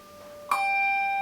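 A handbell struck once, then left ringing with a clear sustained tone, the note of a bass bell on G lingering undamped, close and bright.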